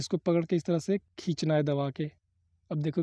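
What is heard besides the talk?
No distinct noise like a dog, phone or traffic.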